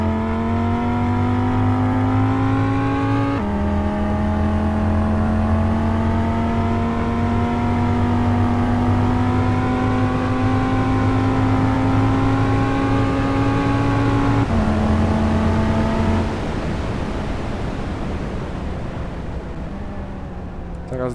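An Audi RS3, about a 2018–2019 model, accelerating hard in sport mode, its engine roaring loudly and steadily from inside the cabin, the pitch climbing through each gear with brief drops at the shifts.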